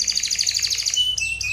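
A bird chirps in a rapid series of bright, high tweets, close and loud, followed by a couple of longer whistled notes.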